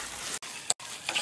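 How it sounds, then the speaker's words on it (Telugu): Sweet pongal mixture being stirred after cardamom powder is added, a soft continuous scraping and sizzling in the pan, close and steady with two brief gaps. "వేసుకొని ఇలా బాగా మిక్స్ అయ్యేదాకా కలుపుకోవాలి."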